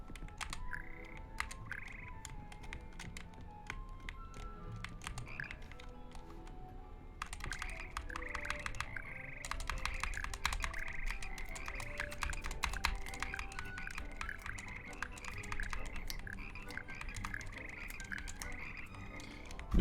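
Frogs in the video game Hogwarts Legacy croak steadily throughout, mixed with dense clicking and tapping like keyboard typing and some musical tones, with no one speaking.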